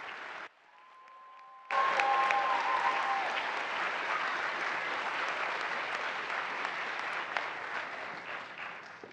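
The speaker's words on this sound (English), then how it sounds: "let's give another round of applause to our 23rd astronaut class." A large audience applauds a graduating astronaut class at a ceremony, with sustained dense clapping that swells in after a brief lull and holds steady to the end.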